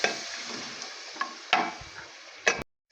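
Garlic hitting chicken frying in a pan for macaroni, a steady sizzle with a few sharp spoon scrapes and stirring clacks, close and fairly loud with no talking.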